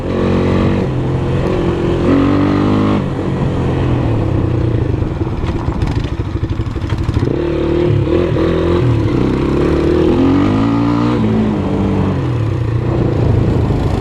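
An old GEON Scrambler 250 motorcycle engine runs loud and close, a steady mid-pitched drone that swells and eases in pitch as the throttle changes throughout.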